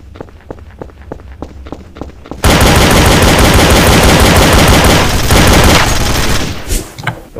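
Counter-Strike: Source gunfire on the Dust map: a few sparse single shots, then a sustained, loud burst of automatic fire lasting several seconds before breaking into scattered shots.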